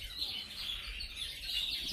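Yellow mosaic canaries chirp steadily in a continuous, bright twittering chorus, fairly close and without talk.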